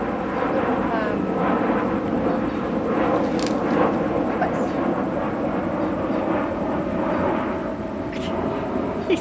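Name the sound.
airplanes flying overhead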